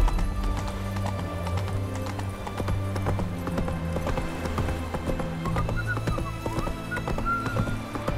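Geralt's horse Roach gallops in The Witcher 3, rapid rhythmic hoofbeats close and loud throughout, layered over low game music tones.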